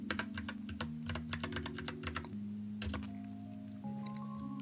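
A password being typed on a computer keyboard, with quick, close, irregular key clicks in short bursts over a low steady hum.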